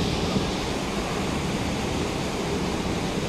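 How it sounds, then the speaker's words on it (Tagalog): Rough seas wash steadily around a cruise ship travelling slowly at about 10 knots with its stabilizers deployed, a dense, continuous roar of waves and rushing water mixed with wind, loud and unbroken throughout. "Kasi maalon eh."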